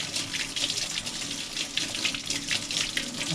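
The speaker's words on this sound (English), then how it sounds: "I'm going to rinse some of that out." A paintbrush with old paint worked loose is rinsed under a running tap in a paint shop sink, a strong continuous splashing rush of water with slight pulsing as the bristles are pressed.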